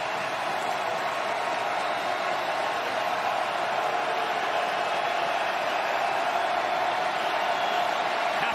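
Raucous home crowd at a UTSA college football game against Houston, a dense, steady roar of many voices filling the stadium without letup.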